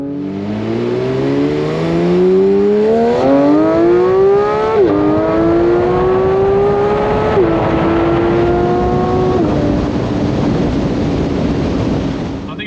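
A Porsche 992 GT3 accelerates hard with a loud exhaust, its engine note climbing steadily through several gears with brief dips at each shift before settling into a sustained high drone, close and dominant.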